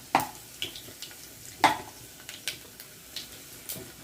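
Mustard seeds, cumin and urad dal fry in hot oil with a faint sizzle, broken by a few light clinks and taps of a spoon against the pan, quiet and close.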